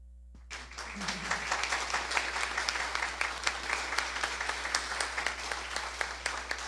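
A crowd at an opening ceremony breaks into sustained applause, many hands clapping steadily and fairly loudly for several seconds after a quiet start.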